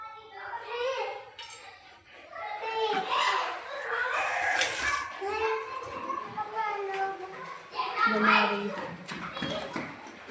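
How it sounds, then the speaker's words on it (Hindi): Children chattering and shouting while playing outdoors in the evening, lively overlapping young voices near and far, with a dog barking now and then amid the commotion. "शाम के टाइम बच्चे बाहर खेलने चले जाते हैं।"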